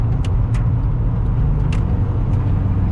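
A Nissan D21 pickup truck engine drones low and steady while driving, with road rumble and faint high squeaks or clicks from inside the cab, and no talking.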